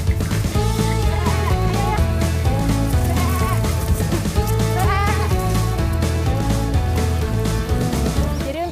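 Sheep bleat on a farm in Caringin, their wavering cries partly buried under loud, continuous background music.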